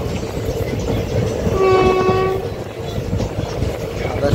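A passenger train runs through Kannamangalam station without stopping, wheels rumbling and clattering up close while a horn sounds in a sustained tonal blast midway.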